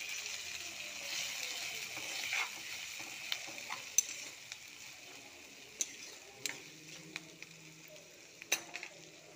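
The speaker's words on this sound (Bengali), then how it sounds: "কাজু, ভালো করে কষিয়ে নেব" Cashews frying in a pan with garlic and getting stirred, a steady soft sizzle with scattered sharp scrapes and clicks of a utensil against the pan, close and alone without talk.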